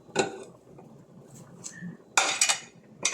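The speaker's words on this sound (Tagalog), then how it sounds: "Lagyan ta na ng takip." A metal lid clanks onto a cooking pot of laswa vegetable stew, a sharp clatter at the start and another cluster of rattling metal taps near the end, close and crisp in a quiet kitchen.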